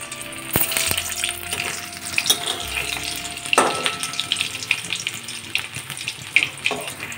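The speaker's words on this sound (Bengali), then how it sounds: "তেলটা গরম হয়ে গেছে, আলুগুলো হালকা করে ভেজে নেব।" Potatoes frying lightly in hot mustard oil in a kadai for stuffed aloor dum, a soft steady sizzle with occasional clinks and scrapes of a utensil, close but moderate in level.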